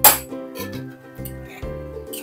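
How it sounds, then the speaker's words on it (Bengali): Metal lid lifted off a cooking pot of cauliflower curry, a bright clink at the start followed by softer metallic rattles and ringing clinks as it is handled. "4-5 মিনিট পর ঢাকনাটা খুলে দেখে নেব।"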